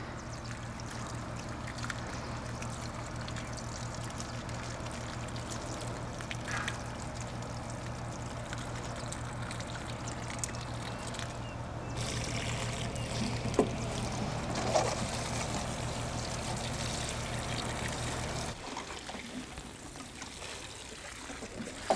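A watering can pours water onto potted plants for a thorough soak. A steady close trickle and splash runs for about eighteen seconds over a low hum, then stops abruptly, with no talking.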